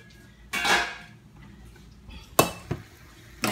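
Pots and pans clatter in a home kitchen while smothered potatoes cook, a few separate metallic clanks and knocks close by, with quiet pauses between them.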